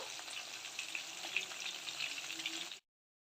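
Kerala style mackerel frying in oil on a medium flame, a faint, fine, steady sizzle with light crackles that cuts off abruptly near the end.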